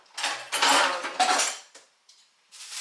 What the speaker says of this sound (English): So now I'm about to cut the onion.